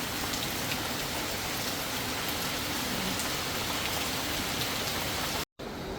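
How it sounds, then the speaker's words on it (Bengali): Heavy rain pours down in a steady, dense roar, loud and unbroken apart from a momentary dropout near the end. "দেখেন কি পরিমাণ বৃষ্টি হইতেছে আজকে"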